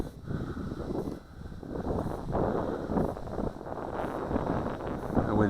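Wind blows steadily outdoors at sunrise during a micro camera drone flight, a broad continuous rushing that buffets the microphone with gusts rising and falling throughout.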